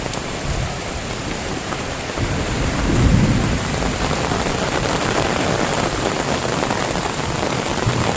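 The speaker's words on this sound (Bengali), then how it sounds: "প্রচুর বৃষ্টি হচ্ছে, প্রচুর।" Heavy rain pours down in a dense, continuous roar, with a low thunder rumble swelling near the middle and wind gusting. No voices are heard.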